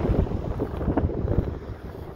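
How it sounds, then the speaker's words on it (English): Evening wind buffets the microphone in gusty, rumbling bursts on a city street in Montreal, loud and continuous throughout with no voices. "And a little windy tonight too, a little breezy."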